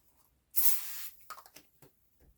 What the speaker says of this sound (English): Spray starch is also good for pressing up your hem